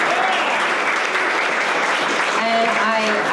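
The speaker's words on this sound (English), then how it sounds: "So big round of applause again for Mayor Noble and Senator Skoufis." Loud, dense applause from an audience at an evening campaign gathering for Mayor Noble and Senator Skoufis, steady and sustained throughout, with voices calling out over it near the end.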